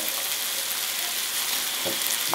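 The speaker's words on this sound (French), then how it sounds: "Pendant que mes poivrons cuisent assez doucement" A gentle, continuous sizzle of peppers frying slowly in a pan, with a faint scrape of stirring near the end.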